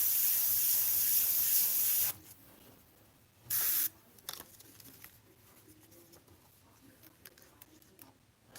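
An Iwata CM-SB airbrush sprays Createx paint in a steady close hiss for about two seconds, then a short second burst, followed by quiet handling sounds and soft talk.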